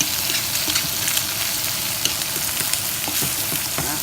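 Steak sears in hot sesame oil with bay leaves and onions, a loud, steady close sizzle with scattered crackles and pops and a few scraping stirs over the dense frying hiss.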